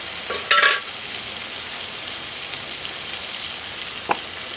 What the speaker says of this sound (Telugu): ఇలా మధ్య మధ్యలో కలుపుకోవాలి అడుగంటకుండా కలుపుకోవాలి